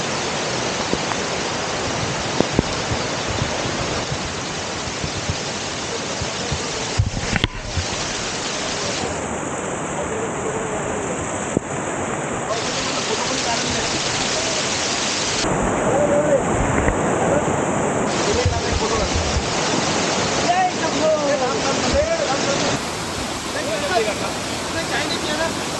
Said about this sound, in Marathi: मस्त वॉटरफॉल आहे.